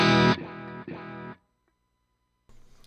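Distorted electric guitar run through an AmpliTube 4 ping-pong delay set to two repeats: a loud chord followed by two fading echoes, then near silence before another chord begins.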